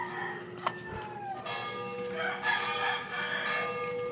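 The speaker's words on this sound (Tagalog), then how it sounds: "Narinig niyo yun? Mga manok na." Distant roosters crow in overlapping calls before dawn in a town under curfew, against a steady background hum, faint and far off, with no talking.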